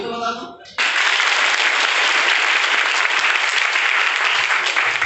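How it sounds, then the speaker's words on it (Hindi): A crowd at a business plan seminar in India breaks into loud, sustained applause right after a speaker's brief words, and the dense clapping continues evenly to the end. "तालियों तो बता दो।"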